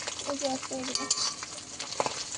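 Herbal hair oil ingredients fry in hot oil in a wok, a close, busy sizzle broken by scraping stirring strokes, with faint background sounds.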